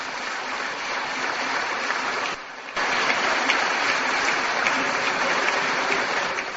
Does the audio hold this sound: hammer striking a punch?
no